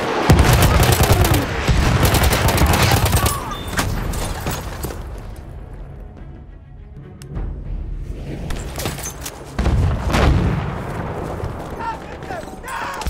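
Heavy battlefield gunfire and booming blasts in Battlefield 1 Rush hardcore mode, loud dense bursts at first, easing into a quieter stretch before more booms, with shouted voices in the mix.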